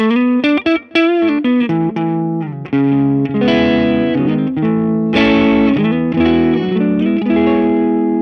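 An overdriven electric guitar on a humbucker tone, through AmpliTube 5 overdrive pedal simulation, plays sustained notes and chords with a thick, warm distorted tone, loud and close, with no talking.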